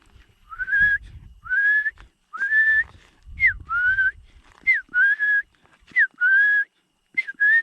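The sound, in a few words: whistled imitation of a bird call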